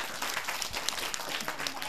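Children in a class circle applauding, steady dense clapping throughout at moderate volume, with a few faint voices underneath.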